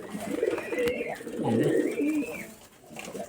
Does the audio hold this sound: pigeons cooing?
yes